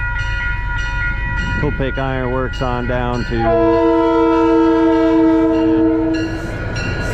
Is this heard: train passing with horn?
yes